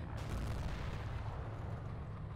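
Heavy gunfire and explosive booms from a WW2 Online battle, with a tank firing on the player, form a continuous loud rumbling barrage of low blasts throughout.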